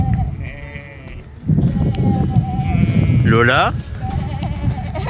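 A sheep bleats loudly and close by among a flock, with a person talking in French over and around the calls.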